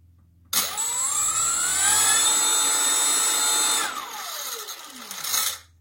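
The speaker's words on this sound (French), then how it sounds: "c'est parti pour l'essai de mise en rotation et d'arrêt" Brushless motor fitted with a propeller, set up for a braking test, whines up to speed with a rising tone, holds a steady high hum, then cuts off and winds down with a falling pitch before a brief final burst.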